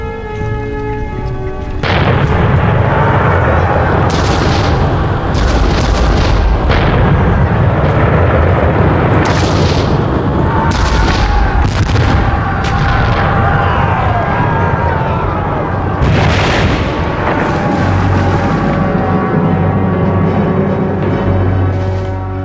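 Cannon and artillery fire in a battle scene, a continuous loud wall of booming blasts and crackling bursts layered over dense rumbling and shouting, with no pauses across the whole stretch.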